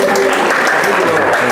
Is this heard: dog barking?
no